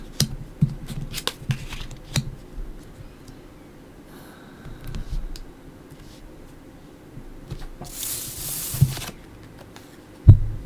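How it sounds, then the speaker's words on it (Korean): Tarot cards are handled and laid out in soft, scattered slides, taps and flicks, quiet and close, with a brief rustling burst near the end. "타로 카드 열어볼게요."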